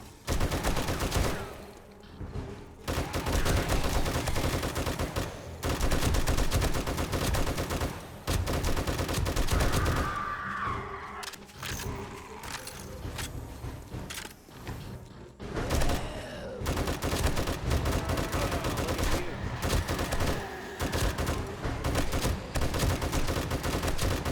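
Sustained automatic gunfire in the zombie survival game 7 Days to Die (Alpha 21), with 7.62 and 9mm weapons firing in dense, loud bursts that run almost continuously, broken by a few brief pauses.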